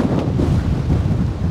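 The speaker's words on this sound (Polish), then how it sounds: "A na tą chwilę te podmuchy, te porywy wiatru są takie naprawdę bardzo, bardzo mocne." Strong wind gusts buffet the microphone outdoors beside a camper trailer on a wild spot in Croatia, a loud, steady, low rumbling roar with no pauses and no voices.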